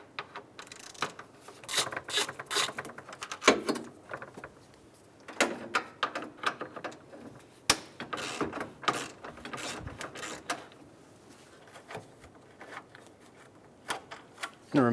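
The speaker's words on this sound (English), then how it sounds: "Using a 10mm socket, we're going to remove the 2 top bolts for the radiator fan." A 10mm socket ratchets out the top radiator fan bolts on a 2003-2008 Honda Pilot, with bursts of quick clicking and metallic rattles separated by short pauses, close and fairly quiet.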